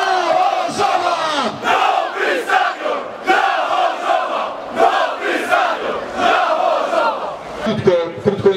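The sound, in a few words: football fans cheering and applauding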